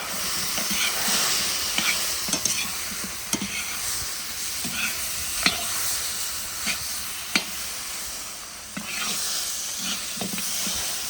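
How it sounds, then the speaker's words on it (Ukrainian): Spiced meat with hot seasoning being stirred in a cauldron sizzles in a dense, continuous hiss close by, punctuated by occasional scraping knocks of the utensil against the metal. "І перемішуємо"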